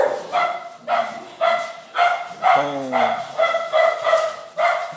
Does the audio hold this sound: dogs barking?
yes